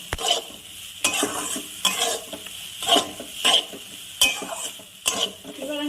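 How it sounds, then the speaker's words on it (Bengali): Fish curry with potatoes and mustard paste is stirred in a frying pan, giving close, sharp scrapes and clinks of a spatula against the pan over a soft sizzle, with no talking. "সর্ষে দিয়ে ভালো করে মিশিয়ে দিয়ে আমি বেশিক্ষণ কষাবো না অল্প নাড়াচাড়া করে জল দিয়ে দেবো"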